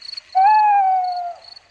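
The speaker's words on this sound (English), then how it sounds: "That is the sound of crickets chirping." A faint, steady high cricket trill pulses in the background while a louder hooting owl whistle rings out once over it, from a Peppa Pig cartoon episode.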